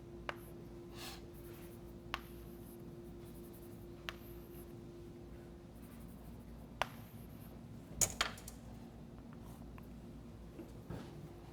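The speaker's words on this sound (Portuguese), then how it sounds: "deixa eu pegar aqui o giz e colorir" Chalk scratching and tapping on a blackboard during a doctoral lecture on partial differential equations, heard as sparse, faint strokes and sharp little taps spread over a quiet room, with no talking.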